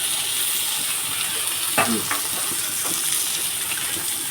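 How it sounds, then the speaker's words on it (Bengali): Mung dal and tomato are stirred in a cooking pan over a constant frying hiss, with a few soft spoon scrapes rising briefly midway. The sound is close, with no speech. "টমেটো অ্যাড করে আবারও একটু নেড়ে চেড়ে নিচ্ছি"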